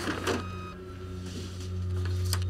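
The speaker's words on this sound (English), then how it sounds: "Dexter is seen using a Sabre printer." A Sabre office printer runs in a quiet room, giving a steady mechanical whir with a low electrical hum, a few soft clicks and feed noises near the start, and the motor growing slightly louder toward the end.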